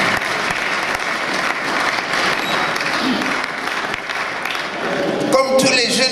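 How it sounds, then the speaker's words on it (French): An audience at a book presentation applauds steadily throughout, a dense sustained clatter of clapping, with a voice emerging near the end. "applaudissez encore plus."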